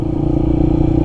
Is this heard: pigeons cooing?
no